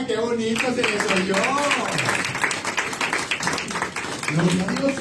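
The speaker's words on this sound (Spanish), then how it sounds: "¡Eso! Denle un aplauso, qué bonito se les oyó." A church congregation breaks into loud, sustained applause during a sermon, steady clapping filling the room beneath a pastor's voice speaking over it.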